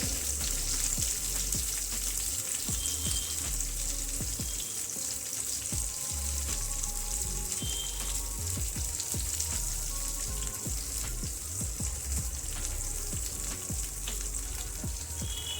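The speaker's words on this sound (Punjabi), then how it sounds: "ਤਿੰਨ ਤੋਂ 4 ਮਿੰਟ ਵਾਸਤੇ ਮੈਂ ਇਸ ਤਰ੍ਹਾਂ ਹੀ ਖੁੱਲਾ ਪਕਾਵਾਂਗੀ ਭਿੰਡੀਆਂ ਨੂੰ" Stuffed okra (bhindi) cooking uncovered in an open pan over a low gas flame, a dense continuous crackling sizzle with scattered pops and spits throughout, close and fairly loud, no voices.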